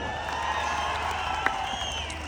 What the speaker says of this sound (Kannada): ಸರಿಯಾಗಿದ್ರೆ ಚಪ್ಪಾಳೆ ಕೊಡಿ.